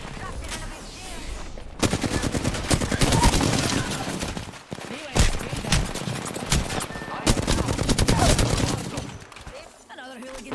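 Rapid gunfire crackles in loud, close bursts during an Apex Legends match, with several volleys separated by short pauses and some voices mixed in.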